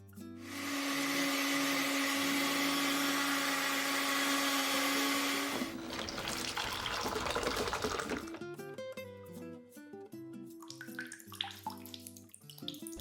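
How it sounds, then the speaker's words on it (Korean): Electric grinder pulverizing loach with its bones, a loud steady whirring motor that runs evenly for several seconds, then gives way to rattling clatter and clinks as the machine slows and stops. "분쇄기에다가 갈고 있어요"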